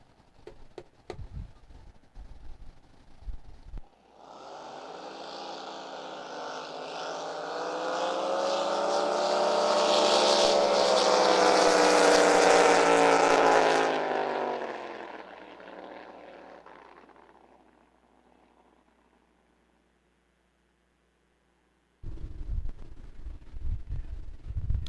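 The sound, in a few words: drag racing boats running a qualifying round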